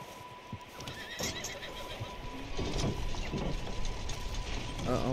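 A horse in Red Dead Redemption 2 lets out a few whinnies and snorts over clip-clopping hooves and clinking tack, with a steady game hum in the background.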